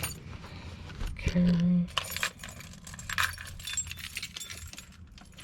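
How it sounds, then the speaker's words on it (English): Keys jingle and clink in a brief metallic burst, close by, followed by scattered rattles and handling noises; a voice speaks briefly. "let me dig my keys out"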